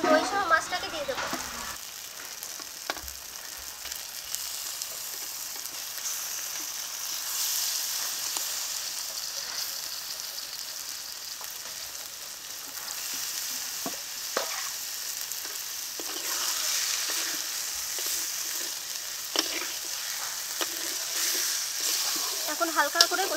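Rohu fish pieces with yogurt hit a pan of spice paste for a kalia curry, bursting into a loud bright sizzle that hisses steadily with occasional stirring scrapes.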